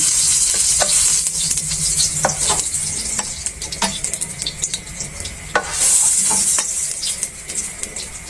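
Onion and garlic sautéing with pork in a pan, sizzling loudly up close while a utensil scrapes and stirs in repeated strokes, with hissing swells between them.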